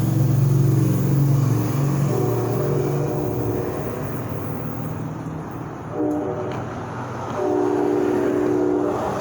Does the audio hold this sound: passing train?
yes